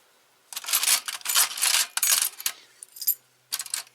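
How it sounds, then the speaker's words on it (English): Assorted metal keys of different shapes, pulled from a craft storage box, clink and jangle in several bright bursts over about three seconds, close and fairly loud, with short pauses between handlings and no talking. "I've got all kinds of keys."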